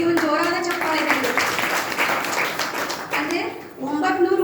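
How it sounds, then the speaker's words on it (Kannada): Applause for Basavanna from an audience at a Kannada devotional Vachana discourse, a sustained burst of clapping lasting several seconds while a speaker's voice carries over it. "ಬಸವಣ್ಣನವರಿಗೆ ಒಂದು ಜೋರಾದ ಚಪ್ಪಾಳೆ ಇದೆ"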